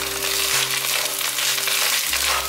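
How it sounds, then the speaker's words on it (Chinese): Shiitake mushrooms stir-fry over medium-low heat in a pan with a steady, close sizzle and soft hiss throughout, while a low hum drops out briefly partway through. "把香菇放进来。 慢慢的用中小火炒"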